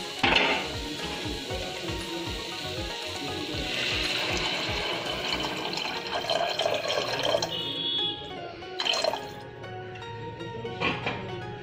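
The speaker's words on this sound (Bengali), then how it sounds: "এবার এর মধ্যে পানি দিয়ে দেবো।" Water pours into a cooking pot of lentils with a steady, close splashing gush that fills and settles, followed by a few drips and light knocks.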